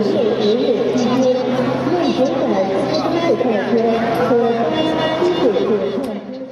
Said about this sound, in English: Quite a crowd which we're waiting for to go through the